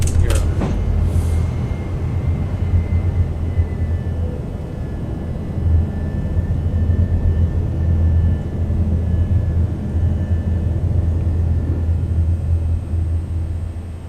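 An Airbus A321 takes off in Microsoft Flight Simulator with a loud steady jet engine roar and deep rumble that holds for the whole stretch.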